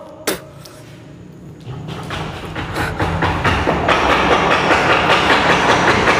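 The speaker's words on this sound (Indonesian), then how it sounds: "Suara mesinnya intens banget keluarnya" Machines run loudly in an old abandoned factory. A sharp knock comes first, then a dense, rising mechanical roar with rhythmic clattering pulses that builds and holds at full loudness.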